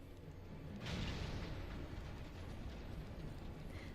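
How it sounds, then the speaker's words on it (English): A single muffled cannon blast in Final Fantasy XIV, a soft boom with a brief crackling burst that fades into a steady low rumble, fairly quiet overall. "All cannons return fire."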